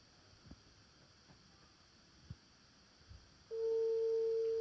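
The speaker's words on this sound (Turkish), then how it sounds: "Çalıyor." A phone call's ringing tone comes on in the last second, a steady, loud, unbroken beep following a quiet stretch with a faint background hiss.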